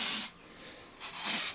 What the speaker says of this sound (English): I'm going to just give it a last little spray down with brake cleaner.